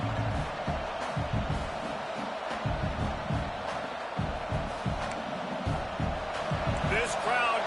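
A stadium crowd roars in College Football 26 as a steady dense wash of noise, with thumps of play and a commentator talking over it.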